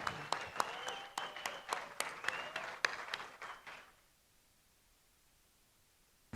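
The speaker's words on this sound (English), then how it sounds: "Big round of applause." Crowd at the opening ceremony of a surfing world championship gives a short round of applause, scattered claps fairly distant that thin out and die away after a few seconds into near quiet.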